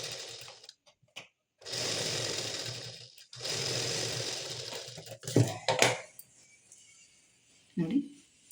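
A sewing machine stitches a plain blouse in two steady runs of a few seconds each, close and fairly loud, with brief fabric handling and soft clicks afterward.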